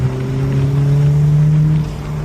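A car with strong low-end torque drives along Bull Road in York County, Pennsylvania, its engine giving a loud, steady droning hum from inside the cabin that holds nearly level throughout.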